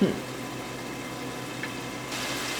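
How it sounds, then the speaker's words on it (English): Water is starting to boil in a pot on a kitchen stove, giving a steady low bubbling hiss that stays even throughout, with a soft sizzle rising near the end. "my water's starting to boil"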